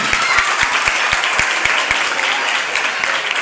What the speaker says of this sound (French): Applaudissez l'équipe de la 9e.